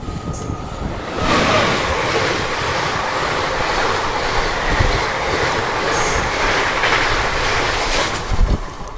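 The Sealdah–Agartala Kanchanjungha Express runs on rails past Ahmedpur Junction toward Sainthia Junction, a loud continuous rumble with wheel clatter and occasional squeals throughout.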